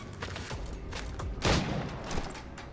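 Gunfire in Assassin's Creed Rogue: a few scattered shots under a busy game soundscape, then one loud close blast with a booming tail, followed by a lighter report.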